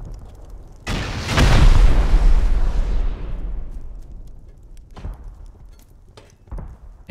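Rocket blasts during a raid in a survival video game: one loud, booming explosion with a long rumbling decay, then a few sharper, smaller bangs and pops following a few seconds apart, no talk.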